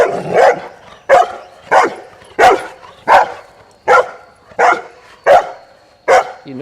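A Bernese Mountain Dog barks nine times in a steady, evenly spaced series. Each deep bark is loud and close, with nothing else underneath.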